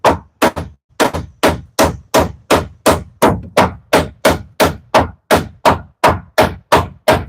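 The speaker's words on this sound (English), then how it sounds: "So I'm hammering up, but not toward my chest." Loud, close hammer blows strike in a steady rhythm, about two per second, with roughly fifteen sharp impacts in a row and no talk, while hammering upward during building work on a capital building structure.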